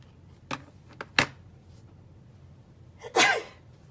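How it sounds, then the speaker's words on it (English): A few short sharp sounds give way to one loud, close sneeze near the end, with quiet room tone between. "Sneezing and coughing."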